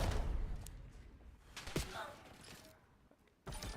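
Gunfire and a grenade in competitive Call of Duty esports play, rapid shots and thuds crackling at moderate loudness over a steady game background, with a loud burst near the end.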